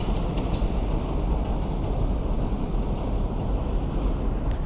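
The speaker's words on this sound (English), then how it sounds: "Looks like you got the train coming in over there." A train rolls in on a Brooklyn line near Kings Highway in Midwood, New York City, a loud, steady low rumble and roar heard from a street walk, continuous with no pauses, plus faint high clanks over it.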